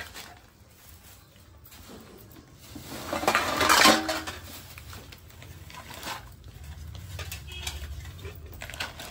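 Small metal cooking pots bought on a shopping trip in Nagpur clink and clatter as they are handled close up, with a louder burst of rattling in the middle.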